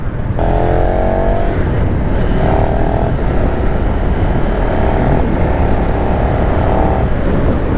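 KTM 1290 Super Duke R motorcycle from 2020, heard accelerating under steady loud wind rush as it rides, with rising engine tones pulling through several surges and easing off the throttle between them.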